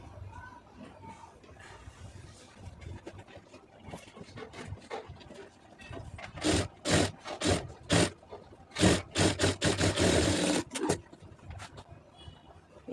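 A sewing machine stitches a lining blouse in several quick rhythmic bursts, loud and close, following quieter handling noises at the start.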